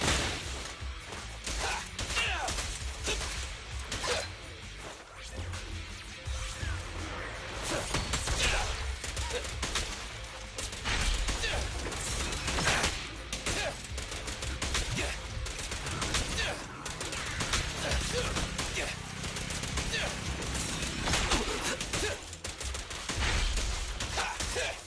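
Gunfire in a Shin Megami Tensei video game: continuous, dense shooting and impacts run throughout a busy battle mix, with faint voices mixed in.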